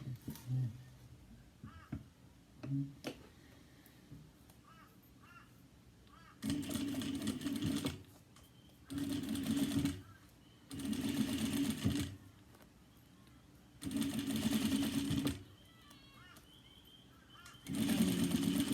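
Sewing machine stitching and basting a recessed zipper on a cross-body bag, running in several bursts of a few seconds each with quiet pauses between, a voice talking briefly at the start.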